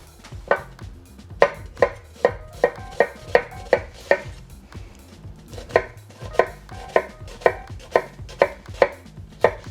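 A knife chops an onion into chunks on a board, two quick runs of loud, evenly spaced thuds close by, with a short pause between them and no voices.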